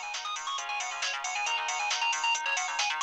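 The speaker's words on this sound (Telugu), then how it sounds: "ఫోన్ ఎవరో చూడు." A mobile phone plays a bright melodic ringtone that continues unbroken and moderately loud, alone without any voices.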